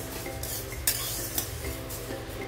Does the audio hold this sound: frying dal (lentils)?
yes